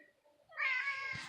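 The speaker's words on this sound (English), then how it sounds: "here he come with the meowing" A pet cat meows once, a single drawn-out cry close by and fairly quiet, rising out of near silence.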